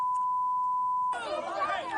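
A steady, pure electronic bleep holds for about a second, then cuts off abruptly as lively crowd chatter and overlapping voices take over.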